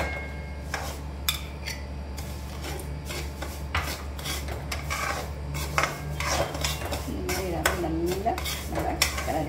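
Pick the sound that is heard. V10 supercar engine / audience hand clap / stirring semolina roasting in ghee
stirring semolina roasting in ghee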